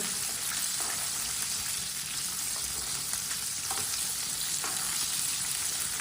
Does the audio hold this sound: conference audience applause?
no